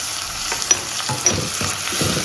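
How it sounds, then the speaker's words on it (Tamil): Onions and tomatoes sautéing with salt in a pan for tomato rice, with a close, loud sizzle and a few quick scrapes and taps of a spoon. "வெங்காயம் நல்லா வதங்கிடுச்சு. தக்காளியும் போட்டுக்கலாம். இப்போ உப்பையும் போட்டுக்கலாம்."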